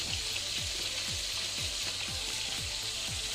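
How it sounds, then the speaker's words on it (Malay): Fried fish dropped into a bubbling sautéed sauce for a spicy sour asam pedas, giving a steady close sizzle with regular soft popping bubbles. "Setelah semua bahan tumisan tadi menggelegak, masukkanlah ikan yang telah digoreng ke dalamnya ya."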